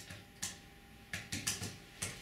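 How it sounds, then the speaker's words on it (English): Soft key taps on a keyboard paired with an HP Elite X3 smartphone, entering text into Word: about six separate clicks at an uneven pace, close and fairly quiet, with no talking. "I can just type in some text on my keyboard"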